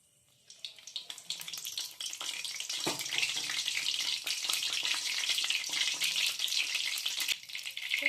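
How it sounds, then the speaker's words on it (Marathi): Curry leaves dropped into hot oil for a mushroom masala, a sudden burst of crackling sizzle that swells into a steady loud spitting fry, close up and uninterrupted. "तेल गरम झालं की त्याच्यामध्ये पहिले कडीपत्त्याची पानं टाकून घ्यायच्यात आपल्याला"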